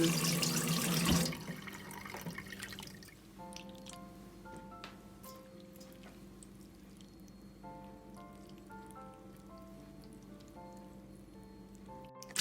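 Running tap water splashes loudly over mullet fish milt being rinsed, a short, close burst of about a second before it gives way to soft musical tones.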